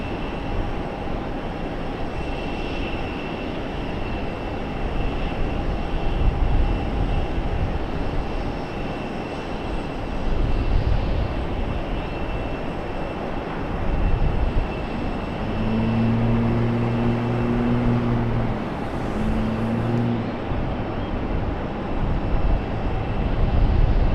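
Delta Airbus A321neo jet airliner moving at Raleigh-Durham International Airport, a steady distant engine roar with a faint whine, with a brief low, stepped horn-like tone near the end.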